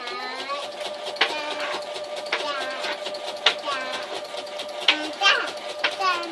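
A sewing machine stitches in free motion quilting through newspaper, its fast rhythmic needle chatter running in bursts close by, with a voice speaking over it.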